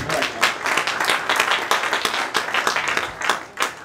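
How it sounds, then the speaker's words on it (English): A gala crowd claps steadily in a sustained round of applause, dense and fairly loud, with individual claps blurring together throughout. "Give him a round of applause, please."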